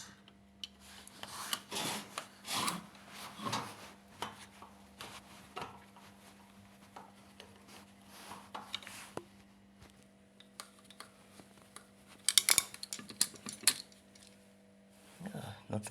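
A flat screwdriver works the worn carbon brushes out of an old washing machine motor, giving close metallic scrapes, clicks and jangling rattles in uneven bursts, with a sharper clatter near the end.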